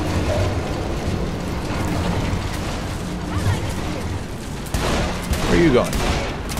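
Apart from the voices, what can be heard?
gunfire from a gun in the video game Saints Row The Third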